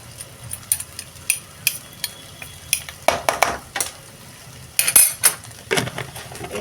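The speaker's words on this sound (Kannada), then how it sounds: "ಇದನ್ನು ಎಲ್ಲ ಮಿಕ್ಸ್ ಮಾಡಿದ್ದೀನಿ ರೀ ಈಗಲೂ ಸಹ ಮತ್ತು ನಾನು ಲೋ ಫ್ಲೇಮ್ದಾಗ ಇಟ್ಟು ಇದನ್ನು ಬೇಯಿಸ್ಕೊತೇನೆ ರೀ" Egg rice masala is stirred in a pan on a low flame, a spoon scraping and clinking against the metal in irregular strokes over a gentle sizzle, close and fairly loud.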